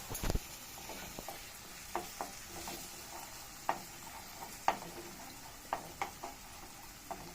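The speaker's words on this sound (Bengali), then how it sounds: "দুটো ডিম ফেলে দিয়েছি, এটাকে নাড়ছি।" Two eggs stirred in a frying pan for an egg tarka: scattered sharp scrapes and taps of a spatula in an irregular rhythm over a faint, steady sizzle, with no talking.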